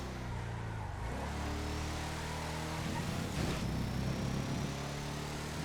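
A squaddy car driving in a GTA FiveM race, its engine droning steadily with a pitch shift and a brief burst of rougher noise partway through, fairly quiet.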